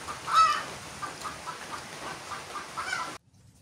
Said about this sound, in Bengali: ডিম দিয়ে চিল্লাইতেছে না?